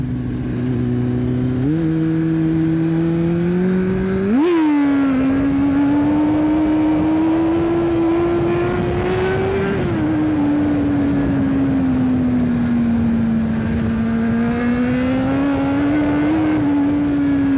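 A Kawasaki Z750 motorcycle engine revs and drones steadily, pitch rising with a sharp throttle blip, then holding a loud, close, continuous roar.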